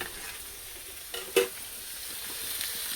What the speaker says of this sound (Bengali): এই যে এখন রান্না চলছে, কি ভাজা হচ্ছে একটু দেখে নি